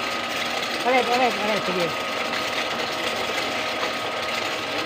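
The motor of a big homemade DIY toy helicopter runs with a constant buzzing, sewing-machine-like drone, close and steady throughout, while people talk briefly over it.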